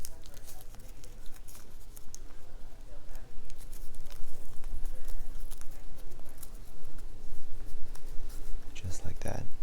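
A spatula folds a thick, mushy mixture in a bowl, making a steady wet scraping and squelching patter that runs close and fairly loud throughout, with a few sharper clicks near the end.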